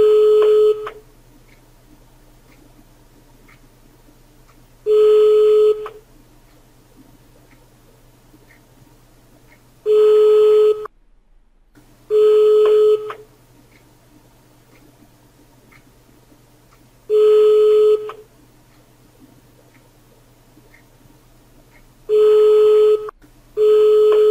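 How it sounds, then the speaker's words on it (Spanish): Repeated short bursts of a telephone busy signal tone, each about a second long, recurring every few seconds with quiet hum between them. "Escucho un teléfono, chicos, pero no pasa nada."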